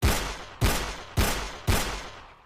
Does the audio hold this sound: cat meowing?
no